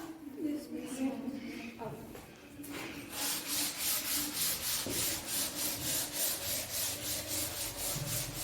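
A duster or cloth rubbing a classroom board clean in quick rhythmic strokes, close and steady after an opening moment of quieter room sound and faint voices.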